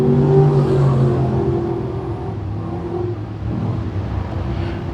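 Panther Frameworks Crate Sprint cars racing at Can Am Speedway, their engines droning loud and steady with a sustained revving tone that slowly fades as the pack moves away.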